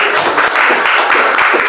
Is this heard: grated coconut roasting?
no